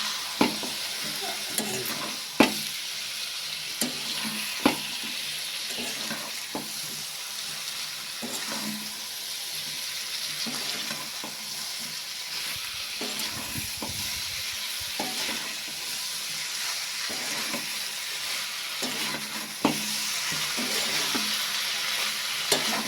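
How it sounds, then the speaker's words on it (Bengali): Drumsticks are stirred in a pan with a ground paste of mustard, poppy seed, coconut and dried chilli, producing a soft steady sizzle broken by regular clicks and scrapes of the spoon, close and without speech. "তো সমস্ত মশলাটা দিয়ে আমি ডাঁটাগুলো খুব ভালোভাবে নাড়াচাড়া করে নিচ্ছি।"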